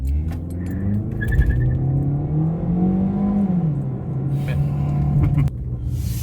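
A 2018 Ford Focus SE pulling away hard from a stop and breaking traction: a steady engine drone rises in pitch and holds, with a brief light jingle early on and a sharp transient near the end.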